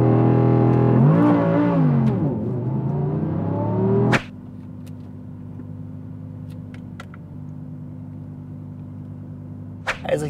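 A stock Audi R8 V10 Performance launches hard from a standing start, its engine roaring loudly and rising in pitch for about four seconds before a sudden drop to a lower, steady drone that continues to the end.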